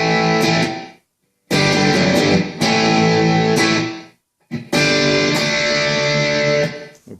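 Distorted electric guitar playing a riff, opening on an open fifth-string A, loud and close in two sustained phrases separated by short silences.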